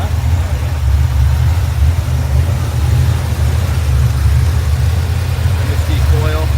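A 1955 Chevrolet Bel Air V8 with an MSD coil and Edelbrock carburetor runs at a steady idle, its low engine rumble continuous and close throughout, with a few faint higher sounds near the end.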